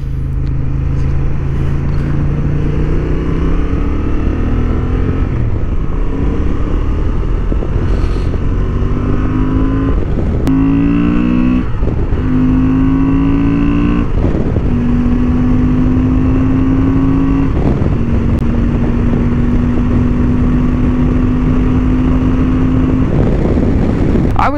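A 2023 Honda XL750 Transalp on a racing track, its engine loud and close as it accelerates through rising revs with repeated gear shifts, each pull climbing in pitch before dropping, then a long sustained high-rev run.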